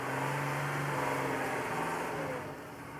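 A Mercedes-Benz Unimog engine labours steadily at close range as the truck climbs a steep 60% slope with steps in it, holding a loud, even drone that eases slightly near the end.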